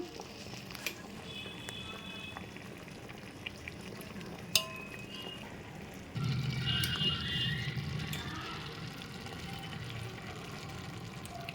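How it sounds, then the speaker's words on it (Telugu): Half-boiled rice is added onto cooked chicken for biryani, first with soft scraping and clinks, then a louder, denser rush of grains landing in the pot from about midway. "ఈ చికెన్లోకి ఈ హాఫ్ బాయిల్ అయిన రైస్ అంతా వేసుకోవాలి"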